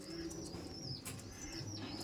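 A Laldom pigeon in a loft coos in low tones alongside a brief flutter of wingbeats, with other birds chirping faintly nearby; the sounds are close and continuous over a short span, and no one talks.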